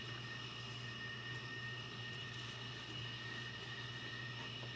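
Steady, even drone of a turbine engine on a David Payne Hornet model aircraft in the Phoenix flight simulator, a continuous whine with a low hum running unchanged throughout.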